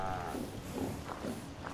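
Cows in the video game Fallout 4 give low, drawn-out moos, a few overlapping calls close together against a faint game background.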